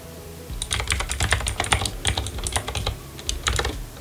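Rapid typing of JavaScript code on a computer keyboard, close and crisp, with bursts of key clicks in an uneven rhythm and a few short pauses, no voices.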